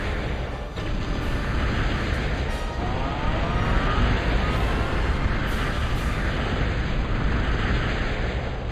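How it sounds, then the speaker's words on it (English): Rolling bombs exploding in the real-time strategy game Total Annihilation, a heavy, continuous roar of blasts and rumbling detonations that stays loud and dense throughout, with faint sharper pops scattered within the din. "Rolling bombs."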